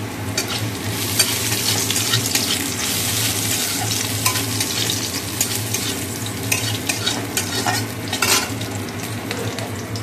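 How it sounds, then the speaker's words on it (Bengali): Small chicken pieces sizzle and fry steadily in a pan while being stirred for the whole stretch, with constant close sputtering and occasional scraping of a utensil, no voices. "চিকেনটা ছোটো ছোটো করে টুকরো করে আলাদা করে আগে কষিয়ে নিচ্ছি"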